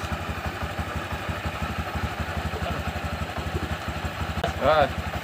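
Motorcycle taxi engine running at a steady idle-like putter with rapid regular pulses, close by, with a brief chirping squeal near the end and people talking alongside.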